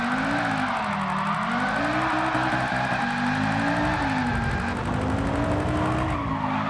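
An AWD rally car drifts in Gran Turismo 7, its engine holding a steady, wavering drone under continuous tire squeal, loud and close for several seconds with no voices.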